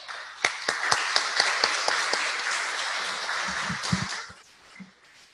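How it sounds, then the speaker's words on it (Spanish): Audience applause at an engineering conference evening session, a steady dense wash of clapping with sharp individual claps standing out, fading out near the end. "Aplausos"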